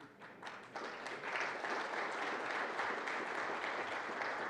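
An audience at a banking conference opening applauds steadily, a fairly distant, even wash of many hands clapping throughout, with no talking over it.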